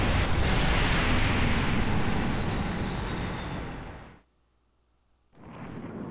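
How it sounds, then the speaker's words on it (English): A loud explosion in Halo: Reach roars as a dense, rumbling blast that slowly fades. It drops out to near silence for about a second, then returns at full force. "I shouldn't be so close to fucking explosion."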